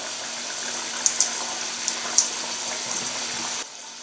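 Gorumeelu dough snacks deep frying in hot oil give a steady, bright hiss with a few sharp pops, then the sizzle drops quieter near the end.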